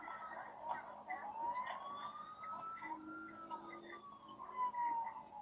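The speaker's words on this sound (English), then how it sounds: "I have sirens, too." A wailing police siren in the video game GTA IV rises and falls at low volume amid background noise, sounding distant and slightly thin.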